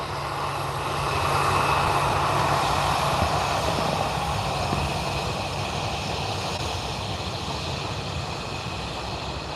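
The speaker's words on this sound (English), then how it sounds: "now just on short finals we do have the Aer Lingus ATR 72 coming in from" An Aer Lingus ATR 72 turboprop arriving from Dublin on short finals at Liverpool Airport produces a steady, broad engine roar with a propeller drone that swells slightly and holds, heard from outside with no voices.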